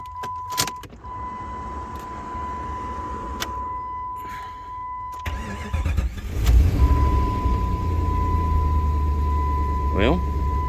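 A Jeep Grand Cherokee engine is cranked and started after crank sensor work, then settles into a steady low running rumble, with a steady electronic chime tone heard throughout and brief rattles and clicks before the start.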